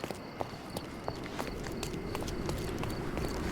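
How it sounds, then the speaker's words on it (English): Horse hooves clip-clop at a steady walking pace in the Sherlock Holmes Chapter One game, a rhythmic series of moderate, fairly close hoofbeats over a soft background with no talk. "You see the horse"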